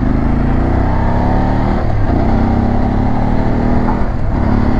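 Motorcycle engine revving loudly and steadily on a highway just past a toll plaza during a breakfast ride, with close, sustained engine roar and wind noise, rising and falling slightly in pitch.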